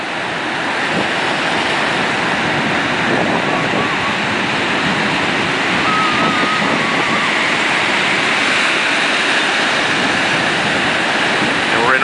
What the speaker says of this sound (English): we're in Ocean Beach, right here at the Ocean Beach Pier